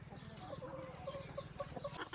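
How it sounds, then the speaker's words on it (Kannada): A country chicken clucks in a string of short, soft, repeated calls, close by with a faint outdoor background and no clear speech. "ನಾಟಿ ಕೋಳಿ"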